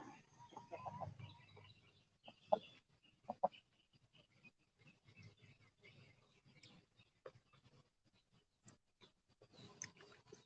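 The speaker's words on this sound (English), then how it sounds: "Just chat and watch the chickens." Backyard chickens cluck and make soft, scattered calls, near but fairly quiet, with occasional sharper squawks and small rustles across the stretch.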